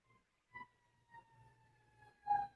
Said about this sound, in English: Yep, it was a fire truck.